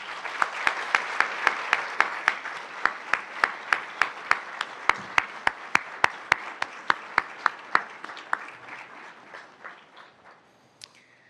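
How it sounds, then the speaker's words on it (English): Applause at an alumni awards ceremony, a run of crisp, evenly paced claps that holds steady for several seconds, then thins and fades out near the end. "Please join me in giving Kemal and all of our alumni award winners tonight one more round of applause."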